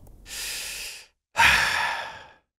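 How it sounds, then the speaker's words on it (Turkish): Two slow, deep breaths taken close to the microphone, a long airy inhale followed by a stronger exhale with a short silent pause between them. "Derin bir nefes al."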